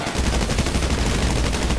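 Rapid automatic gunfire during the Humane Labs Raid in GTA Online, a dense, steady rattle of shots fired close by for nearly two seconds without speech.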